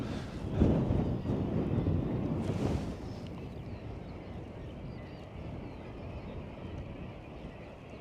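Strong, steady wind buffets the microphone on a cliff edge at a seabird colony, with louder roaring gusts in the first three seconds before settling into a constant lower rush.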